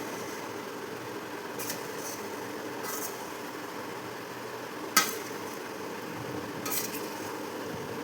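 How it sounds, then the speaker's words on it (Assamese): Mango pickle is stirred in a pan after Kashmiri chili powder is added: a faint soft simmer with occasional spoon scrapes and one sharper clink against the pan, with no speech. "এতিয়া মই কাশ্মীৰী মিৰ্চ 1 চামুচ দি দিছোঁ। দি পেলাই এনেকৈ লৰাইছোঁ।"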